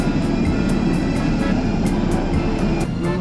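A parked airliner's engines roar loudly and steadily beside the plane at an airport, a close, dense, constant drone with faint rhythmic ticking over the top.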